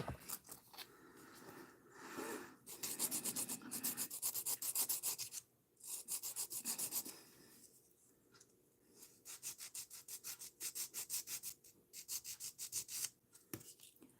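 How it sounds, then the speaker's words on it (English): Sculpted acrylic nails being buffed, rapid back-and-forth rubbing strokes in quick bursts with short pauses, close and quiet, no talking. "Alright, now I'm gonna do some buffing."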